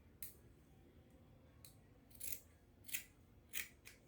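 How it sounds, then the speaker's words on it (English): Scissors cutting out a fabric facing, several crisp snips spaced about half a second apart over a quiet background, close and clear with no voices. "I'm going ahead to cut out my facing"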